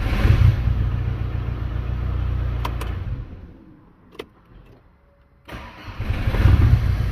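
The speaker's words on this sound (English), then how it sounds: "see what happens when we start the car up" Audi A6 Avant engine running, then shutting off to near silence with a couple of clicks, and cranking back to life with a loud start that settles into a steady idle.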